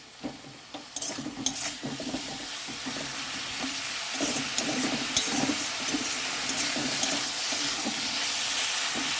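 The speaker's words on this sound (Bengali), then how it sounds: "এবারে ভালোভাবে এটাকে কষাতে থাকবে" Chili powder and sugar sauté in hot oil in a pan for a spicy sole fish curry, giving a steady close sizzle and hiss broken by frequent scraping stirs, with no talking.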